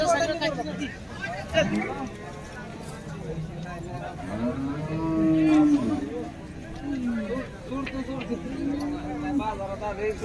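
HF dairy cows at the Baramati cattle market moo several times, long low calls rising and falling over a steady crowd babble.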